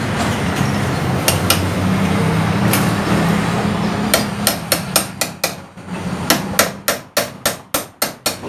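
A hammer strikes the steering head nut on a Yamaha Jupiter MX motorcycle. Scattered sharp metallic blows over a low rumble build into a fast, evenly spaced run of loud close strikes near the end.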